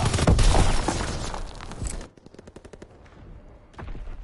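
Loud, dense bursts of gunfire ring out in a PS4 shooter for about two seconds, then drop to quieter scattered shots and rattles.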